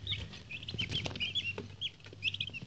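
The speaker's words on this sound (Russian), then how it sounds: "Вот такие они интересные индюшатки, это им неделя." Week-old broiler turkey poults of the Big 6 / BUT-8 breed peep and chirp in rapid, overlapping high calls, close by and fairly loud, with soft scuffling underneath and no talking.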